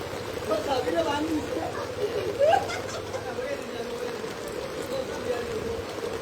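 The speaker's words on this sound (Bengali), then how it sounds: "আজকে বিকাল পর্যন্ত যদি এরকম বৃষ্টি হয়" Heavy rain in Silchar, Assam, makes a continuous, even wash of falling water, with faint voices murmuring beneath the downpour.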